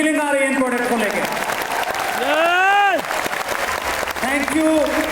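An audience at a business seminar for RCM in Gama, Delhi, applauds steadily throughout while a voice carries on over the clapping, the applause loud and continuous.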